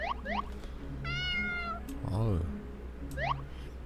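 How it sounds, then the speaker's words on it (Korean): In a horror video game, a cat meows several times in quick high-pitched calls, with one longer drawn-out meow in the middle, sounding close and clear over a low background hum. "이 고양이가 나에게 무언가를 말하고 싶어하는 것 같은데"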